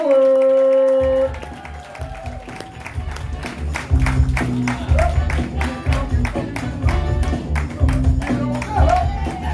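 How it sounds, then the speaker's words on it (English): An audience at a comedy night at Chevy's Nite Club on Washington Road in Augusta, Georgia claps to welcome a comedian to the stage, with steady, fairly loud clapping and crowd noise over a low rumble after a brief sustained tone. "Y'all please start clapping right now."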